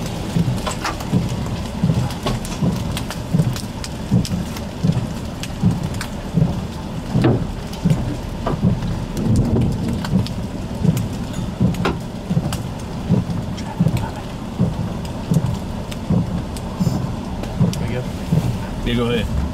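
Heavy rain pours steadily during an intense tornadic supercell thunderstorm with huge hail near Fort Worth, Texas, with dense close hiss, rumbling thunder and scattered impacts, while voices talk faintly underneath.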